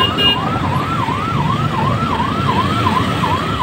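An ambulance siren wails in a steady rising-and-falling pattern over dense traffic rumble, loud and close throughout.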